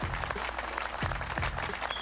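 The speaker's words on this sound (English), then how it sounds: "let me get an applause real quick" Applause rises on a Boku No Roblox Remastered stream marking 200 subscribers, a steady wash of clapping lasting about two seconds with a low droning tone running underneath.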